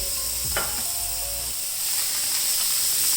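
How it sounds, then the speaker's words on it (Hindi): Water splashed onto the sides of a hot tawa over a low flame while tandoori roti cooks, giving a brief sharp sizzle that settles into a steady steaming hiss with no talk. "हल्का सा मैं पानी का छींटा दूंगी साइडों पे"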